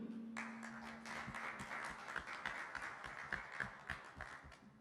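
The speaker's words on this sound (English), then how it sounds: "I think you deserve a good applause from Cairo here" A small audience in a hospital cardiology conference hall gives faint, scattered applause, a loose patter of individual claps that starts sparse, thickens briefly and then thins out.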